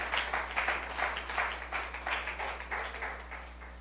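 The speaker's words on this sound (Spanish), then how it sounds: "Debe fuerte ese aplauso a Cristo." A congregation claps for Christ during an evangelical church service, a steady run of rhythmic hand claps, loud and close, with a low hum beneath.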